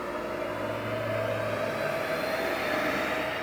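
A Peugeot 308 engine runs on a dynamometer in a tuning workshop, giving a steady, loud mechanical drone with a sustained whine and no speech.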